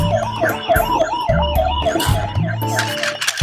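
An electronic wailing siren like a toy ambulance's, rising and falling rapidly and repeatedly, loud and close, with some clatter underneath.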